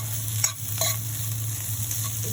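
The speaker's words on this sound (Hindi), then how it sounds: "1 मिनट के लिए इस तरह से इनको अच्छी तरह से भून लूँगी।" Chutney ingredients roast in a pan on the stove with a steady, even sizzle and a couple of brief scraping stirs near the start, with no talk.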